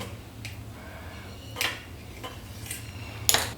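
A knife cuts masala rava idli on a plate, giving a few sharp, separate metallic clinks and taps against a quiet kitchen background.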